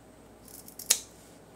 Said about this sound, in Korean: 근데 요거는 가위로 제가 잘라 주겠습니다.